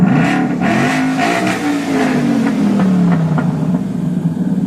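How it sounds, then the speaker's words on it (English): A Ford Mustang Boss 302 with 963 original miles and a redline near 8,000 revs hard, its engine note rising, then falling and surging again in loud, close bursts with no talking. "Don't worry, it was already warmed up before I revved it."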